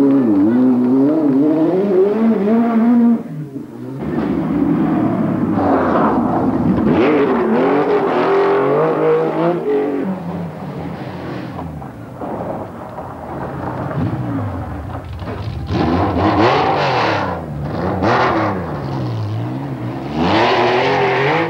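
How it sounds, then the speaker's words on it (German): A Ferrari rally car blasts through hairpin bends on a 1982 Corsican rally stage, its engine loudly revving up and down through gear changes as it brakes and accelerates, close and dominant with brief drops between bursts. "Andrier im Ferrari ist trotz der Haarnadelkurven teuflisch schnell."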